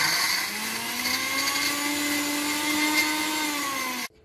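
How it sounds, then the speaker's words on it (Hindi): A mixer grinder blending fresh paneer whirs at a steady high pitch, loud and close, running continuously before stopping abruptly. "अब हम लोग छेने को मिक्सी में डालकर स्मूथ कर लेंगे।"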